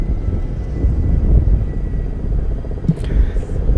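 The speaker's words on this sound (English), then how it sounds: "Three Kamov 31 helicopters" Three Kamov 31 double-rotor airborne early warning helicopters of the Indian Naval Air Squadron pass over a fleet review in Visakhapatnam, a steady low rumble under crowd noise and commentary.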